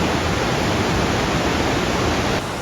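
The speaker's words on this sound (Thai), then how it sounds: "อันนี้คือน้ำตกเคกอง มันจะไหลมาจากน้ำตกชูเซนจิ" Kegon Falls in Nikko, Japan, roaring as a steady, loud, dense wash of falling water that fills the whole stretch without a break, close and continuous with no voices.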